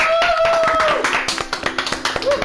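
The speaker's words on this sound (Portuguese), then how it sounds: "Uma salva de palmas." A short burst of hand clapping for applause, a few people whose quick claps soon thin into scattered separate taps. A held tonal sound runs underneath at the start.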